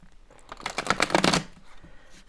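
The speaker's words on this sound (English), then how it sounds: "I'm going to give these cards another shuffle." A single quick riffle of oracle cards, a short crisp burst of fluttering snaps close to the listener, with quiet before and after.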